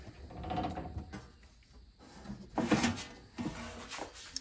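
The base plate drawer of an xTool P2 laser cutter slides out with a scraping, mechanical rattle followed by a couple of clunks, close and fairly faint, with no voice over it.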